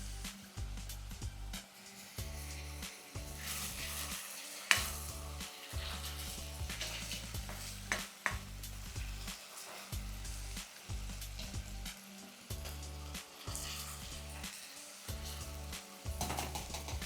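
Tomatoes with salt cooking in a pan for dahi misal, a continuous bubbling sizzle with occasional stirring scrapes under low background music, no voices.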